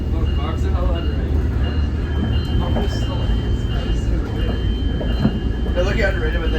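A SMART Nippon Sharyo DMU passenger train running northbound toward Sonoma County Airport, heard from inside as a steady loud rumble of rolling wheels and engine, with faint rail clicks and people talking over it.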